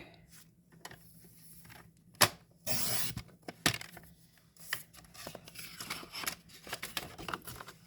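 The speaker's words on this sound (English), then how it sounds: "So you're going to cut that in half both directions." Cardstock sheet being cut in half: scattered paper rustles and taps, then one short, loud scissor-like slice and crisp handling sounds afterward, heard close with no speech.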